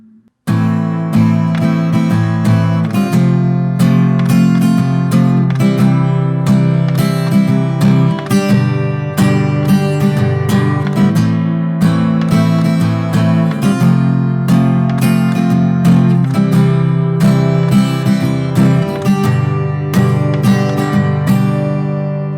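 An acoustic guitar strums a repeating chord progression with steady rhythm, bright and close, playing alone without any voice.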